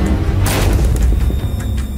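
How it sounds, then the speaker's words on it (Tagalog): A wooden door bursting open as wooden walls explode, in a dramatized horror tale set at a remote healer's hut: a loud crashing burst of splintering noise over a heavy, continuous low rumble, with no talking. "Narinig ko ang malakas na tunog ng pagbukas ng pinto, kasabay ang pagsabog ng mga kahoy na pader"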